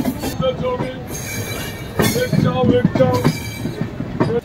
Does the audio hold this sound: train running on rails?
yes